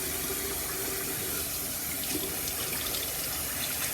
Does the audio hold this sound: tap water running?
yes